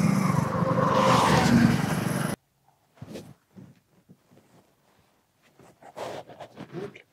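A car drives fast, with a loud, steady rush of engine and road noise for about two seconds before it cuts off abruptly into quieter, scattered sounds.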